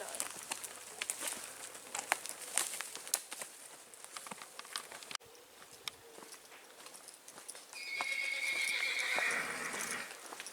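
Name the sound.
horse neighing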